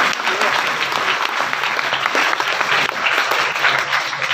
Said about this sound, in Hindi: भाई माड़ी ताली बजा दिया करो रे।